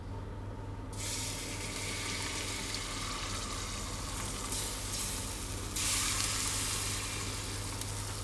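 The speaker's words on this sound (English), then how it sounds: "Can you hear it sizzling?" Yorkshire pudding batter poured into hot oiled tins on direct heat, a loud, close, continuous sizzle that starts abruptly and swells briefly later, alone without talk.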